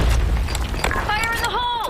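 A grenade goes off in the Counter-Strike map Sand Storm II: a loud, deep boom at the start rumbles under the mix while a player's voice talks over it near the end.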